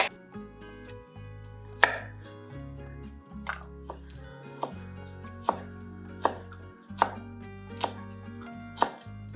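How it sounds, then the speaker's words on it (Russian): A knife chops parsley on a cutting board in a home kitchen, giving crisp, close knocks in a loose rhythm, roughly a dozen strikes, with short quiet gaps between them. "Теперь порубим петрушку."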